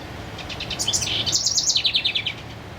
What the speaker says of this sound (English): I can hear the babies are in there squawking